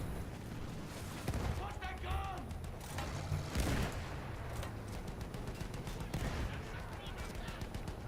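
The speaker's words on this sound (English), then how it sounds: "The guns are really hard to shoot enemies that are close to the tank" Tank guns in the Battlefield 1 campaign fire in rapid bursts of close, loud gunfire and booms, overlapping with the game's ambient noise and a voice talking.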